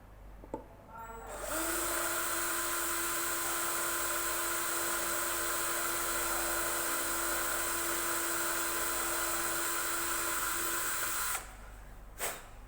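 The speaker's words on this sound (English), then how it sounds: "Okay, that's the 4 holes drilled." A small power drill bores 2mm holes through a ukulele bridge during bridge attachment, giving one steady, close, high-pitched whine that runs for about ten seconds and then cuts off, with no talking.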